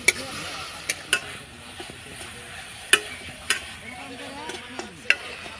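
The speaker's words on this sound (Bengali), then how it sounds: "নাড়াচাড়া করে আমি পুরটা তৈরি করে নেব।" Coconut, jaggery and a little water being stirred in a pan to make a sweet filling, a soft bubbling sizzle broken by sharp scattered taps of a spoon against the pan.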